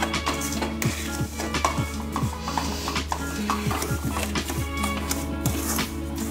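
Semolina (suji) and coconut roasting dry in a pan, with repeated spoon scrapes and stirring strokes against the metal in a steady rhythm, close and moderately loud.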